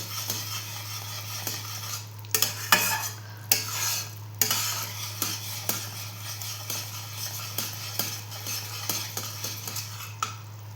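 Jaggery and a little sugar heat in a pan for sesame tilgul, a spoon scraping and stirring in steady close strokes over a faint low hum, with no talk.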